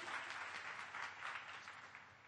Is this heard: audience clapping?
yes